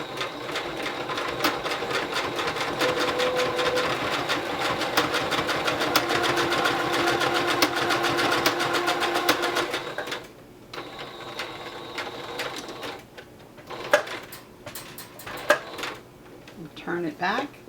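A sewing machine stitches a fabric face mask with a steady, close mechanical whirring for about ten seconds, then stops, followed by scattered clicks and handling noises while a voice talks.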